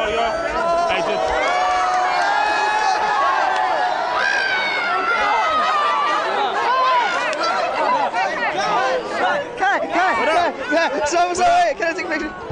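A dense crowd of people gathers and chatters in Las Vegas, a loud, continuous babble of overlapping voices with scattered laughs and shouts, close around and filling the whole stretch.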